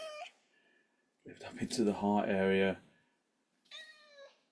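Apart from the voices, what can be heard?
cat meowing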